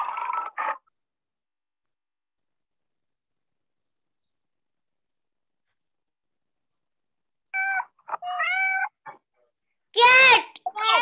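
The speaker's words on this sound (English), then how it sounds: "Cat. Cat." A cat meows a few times: one short mew at the start, then after a long silence a run of meows ending in a louder, drawn-out cry.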